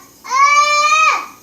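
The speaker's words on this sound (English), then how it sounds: "That's my son in the background. Y'all hear him hollering." A young boy hollering in the background of a home kitchen: one drawn-out, tonal wail that swells quickly, holds for about a second and drops away, fairly loud and clear.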